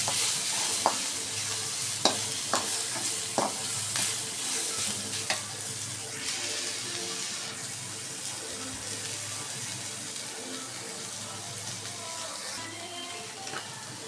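Onions and ginger sautéing in a pan for pepper rasam, a steady sizzle with a few sharp clinks of a spoon scraping and stirring early on, then a continuous frying hiss.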